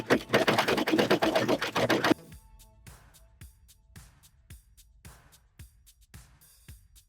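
Cover stitch sewing machine hemming folded fabric: a dense, loud burst of rapid stitching for about two seconds, then a series of separate soft clicks and taps as the machine stops and the work is handled.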